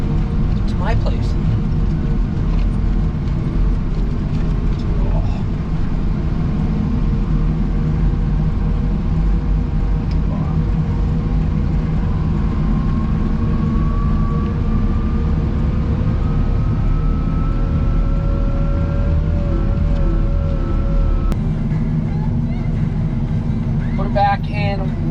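A Cat 908H loader engine drones along in high road gear on a snowy drive, a steady low rumble with a rising whine underneath throughout.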